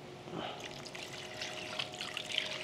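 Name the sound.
pouring a little water into the cooking chicken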